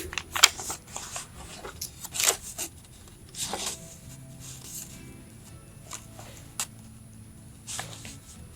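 Scissors snipping thread ends on a handmade bound journal: a few sharp, close clicks spaced over several seconds amid faint handling rustle, quiet and without speech.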